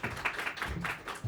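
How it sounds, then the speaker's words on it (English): Audience applause at a Warsaw Java User Group talk, a fairly faint, steady patter of many hands clapping that holds for a second or so with a brief dip near the end. "Give a round of applause."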